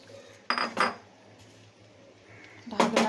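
Kashmiri pulao with chopped apple being stirred in a pot, heard as a few brief metallic clinks and scrapes of a spoon against the pot, close, separated by quiet gaps.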